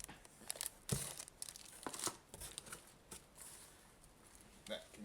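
Plastic packaging from a Sennheiser GSP 301 headset crinkles and tears in sharp bursts as it is pulled away during unboxing, close and fairly loud, with brief rustles scattered throughout.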